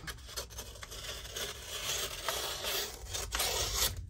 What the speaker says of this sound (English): we're gonna use scissors because you don't want to work with me today